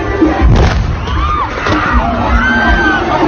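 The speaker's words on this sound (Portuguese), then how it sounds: "acontece uma explosão" At a crowded outdoor event in Osasco, a bonfire is lit and a dull thudding burst rises amid a loud crowd whose shouts, whoops and whistles carry on throughout.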